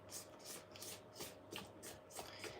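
Scraping bread dough during home baking, a quiet rhythmic series of soft rasping strokes, about eight to ten of them at an even pace, close by with no talking.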